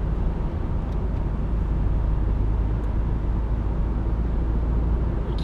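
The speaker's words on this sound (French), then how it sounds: "le moteur se fait assez entendre au-dessus de 3000 tours" A steady, loud petrol engine drone from inside a moving car, above 3000 rpm, with a continuous low rumble and road noise throughout.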